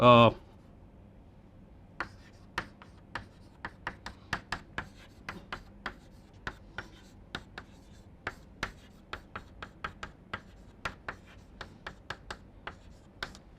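Chalk or marker taps and short strokes on a board during a numerical methods lecture, sparse sharp clicks spaced irregularly after a brief opening burst, fairly quiet and close.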